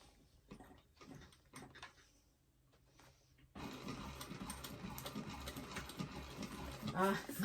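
An industrial sewing machine stitches a bag, first a few quiet taps and short bursts, then a loud continuous motor hum with rapid needle chatter. A voice talks over parts of it.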